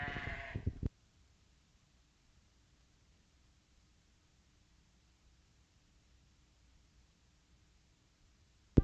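A sheep at an open wool and meat breed sheep show at the Colorado State Fair gives one short, loud bleat right at the start, followed by near silence and faint hall ambience.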